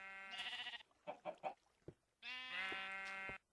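Minecraft sheep bleat in a small in-game sheep pen inside a cave, two long wavering bleats separated by short choppy game sounds, clear and close.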